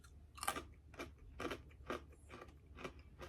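Chocolate peanut butter squares are chewed close to the mic, with soft crunchy bites repeating about every half second, quiet and without speech.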